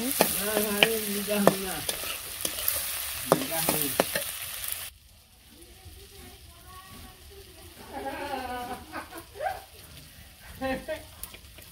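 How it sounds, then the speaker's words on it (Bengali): Dried fish stirred and fried in a pan, a loud sizzle with repeated spatula scrapes that drops to a quieter fry partway through, with someone talking over much of it. "আমি শুটকিটা রান্না করতে থাকি, রান্না শেষ হলে দেখাবো।"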